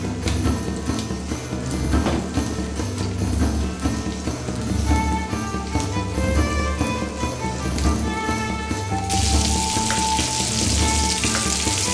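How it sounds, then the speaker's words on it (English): Meat browns in a hot pan with a loud, continuous sizzle and crackle, steady throughout with occasional stirring. "while I'm waiting on the meat to brown"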